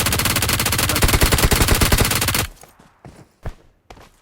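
Rapid, loud automatic gunfire in PUBG Mobile rattles continuously for about two seconds, then breaks off into a few scattered single shots and softer thuds.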